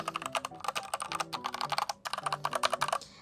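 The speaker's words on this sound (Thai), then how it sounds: "เดี๋ยวให้ฟังเสียงสวิต์นิดนึงแล้วกัน" Red switches on a wired Nubwo mechanical keyboard clack in quick, steady bursts of typing, close and clear, with a brief pause midway before the keystrokes resume.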